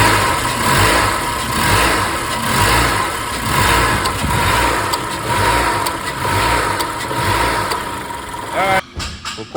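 A Honda engine revs under load during a brake torque test, steady and loud with rising and falling surges, the motor shaking on worn front and passenger-side motor mounts, close by throughout.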